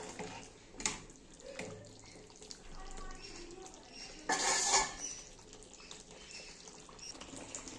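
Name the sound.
stirring and frying chicken in a pot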